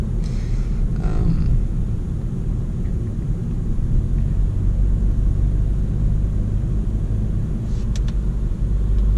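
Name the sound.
2018 Volkswagen Golf GTI DSG MK7.5 driving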